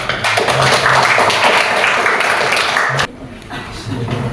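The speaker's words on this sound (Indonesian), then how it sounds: "Ya, berikan aplaus." A room of people gives a round of applause during a group presentation session: dense, loud clapping for about three seconds that cuts off sharply, leaving quieter room noise.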